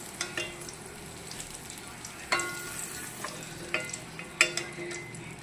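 Pointed gourd (potol) frying in a pan: a steady soft sizzle, broken by a few sharp scrapes and clicks of a spatula stirring the pieces, with no talking.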